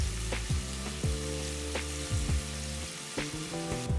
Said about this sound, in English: Next, add 1 large onion finely chopped and saute for about a minute.